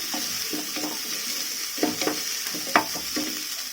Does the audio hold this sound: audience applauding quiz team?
no